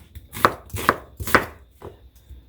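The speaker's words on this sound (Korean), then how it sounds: "양파 아주 작은 양파 하나도 이렇게 뚝뚝 썰어주고" A knife cuts a small onion on a board with four crisp, evenly spaced chops, the last one softer, close and clear with no voices.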